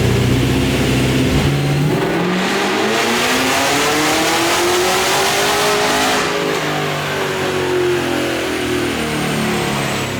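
A supercharged LS3 V8 swapped into a 1962 Chevy C10 pulls hard on a dyno, its loud, close roar climbing steadily in pitch through a long sustained run.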